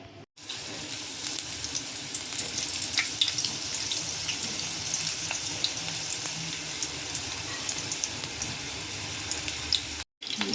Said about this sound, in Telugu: కొంచెం లైట్గా ఫ్రై చేస్తున్నాను నేను